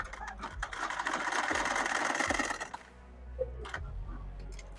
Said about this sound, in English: sew about 2 to 3 stitches, tilt it 180 to the left, sew another straight line down